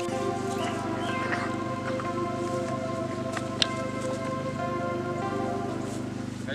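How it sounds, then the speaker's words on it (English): Hail falls outdoors in a steady, dense patter of small impacts with a few sharper, louder hits standing out, continuous throughout without any talking. "Hail!"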